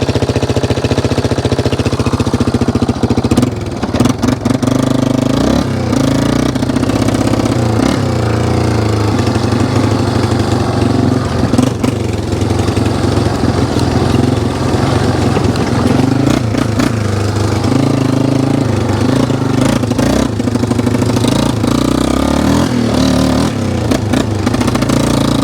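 A Yamaha Wolverine ATV engine runs rich and overfuels at mid throttle, holding a steady, close, loud mechanical drone with slight uneven flutters throughout and no talking.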